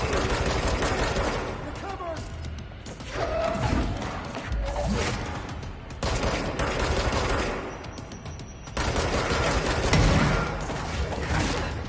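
Enemy gunfire during a boss battle in the video game Control, with dense bursts of rapid shots and impacts in several waves, mixed with game effects and a voice talking over it.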